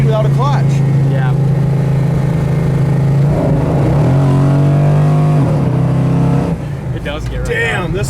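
A 1970 Pontiac GTO accelerating hard, its loud close engine climbing in pitch, dipping at a gear change and then pulling up again, with people talking over it.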